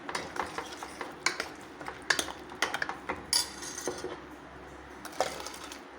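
Coconut goes into a pot of jackfruit seed and dal curry, bringing a run of sharp metal clinks and scrapes from a spoon and vessel, close and fairly quiet, irregular and spaced apart.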